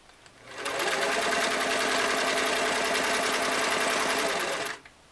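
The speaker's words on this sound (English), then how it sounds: "sewing 2 layers of denim in a straight stitch" A restored Singer Model 337 sewing machine straight-stitching two layers of denim, a fast, even mechanical whir that starts up, runs steadily for about four seconds near and loud, then stops.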